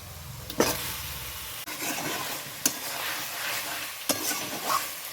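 Marinated chicken sliding into a hot pan of curry spices, followed by sizzling frying and repeated scraping stirs with a utensil, the bursts recurring every second or so at close range.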